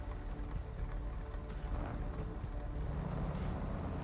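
Steady rain falls in the Snowrunner video game on hard mode in Michigan, a constant dense hiss with low rumbling beneath, even and unbroken throughout.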